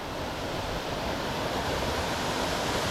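Small Appalachian mountain creek flowing steadily in a continuous, even rush of water, close to the microphone and with no talking over it.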